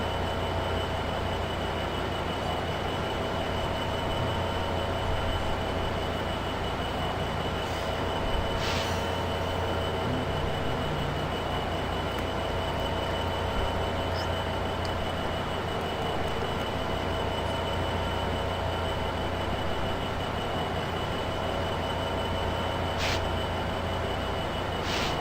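An Amtrak Surfliner passenger train in a train simulator game rolls along with a continuous rumble and steady wheel noise, with faint squeals and brief clicks over a constant hum.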